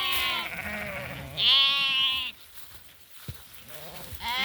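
Sheep and lambs in a flock bleat close by, two long wavering calls and a third starting at the end, with a short knock between them.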